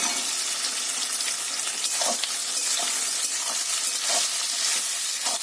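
Tomatoes tossed into a hot frying pan crackle and sizzle loudly and steadily up close, with a few spoon knocks and stirring scrapes over the bright hiss.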